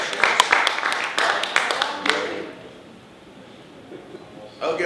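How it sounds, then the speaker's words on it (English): A school audience gives a short burst of clapping for young beginner musicians, fading out after about two seconds, followed by quiet room noise and a faint sound near the end. "Let's give a round of applause to these youth musicians."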